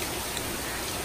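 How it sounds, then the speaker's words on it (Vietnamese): Rain falls outside as an even, continuous hiss, with no voices over it. "Ngoài trời đang mưa nè, đó."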